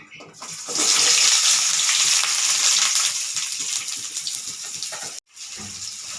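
Loud, steady sizzling of onions frying in oil for egg gravy, a broad hiss that swells early, then a brief cut near the end before resuming.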